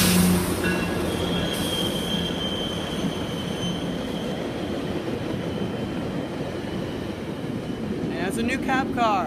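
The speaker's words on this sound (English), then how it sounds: "This is a GO Transit train" A GO Transit train in older colours passes Danforth GO Station on a stormy, windy day, a loud steady rolling rumble with sharp wheel squeals near the end.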